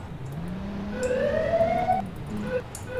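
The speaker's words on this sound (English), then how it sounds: "What type of siren does this car have?" A police car siren in a Roblox game whoops upward in a rising sweep, then cuts to short yelps, clean and synthetic-sounding.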